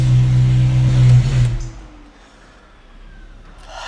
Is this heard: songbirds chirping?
no